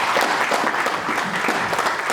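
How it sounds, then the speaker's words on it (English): Steady audience applause at a university digitalisation workshop, dense continuous clapping from a room full of people, close and fairly loud throughout. "a round of applause"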